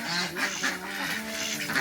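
Several ducks quacking close by in quick, overlapping bursts, a continuous noisy chorus of nasal calls.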